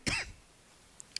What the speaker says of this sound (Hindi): खांसी आ रहा है यार बहुत